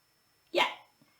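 A single short bark-like yelp from a human voice imitating a dog, close and fairly loud, rising sharply and fading within half a second, with a faint small click after it and no other talk.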